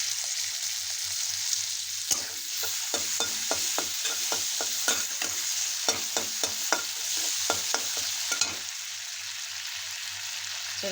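Tomatoes and chopped cauliflower frying in a pan for an Indian cauliflower bhaji, a steady loud sizzle broken by a run of sharp spoon-scraping stirs in the middle, with no talking.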